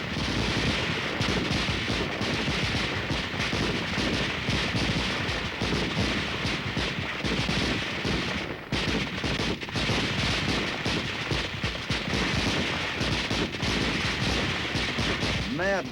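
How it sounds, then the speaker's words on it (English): Soldiers in a training demonstration fire their weapons with blank ammunition, a dense, continuous barrage of rapid gunfire crackling throughout with barely a pause. "trainees fire their weapons using blank ammunition"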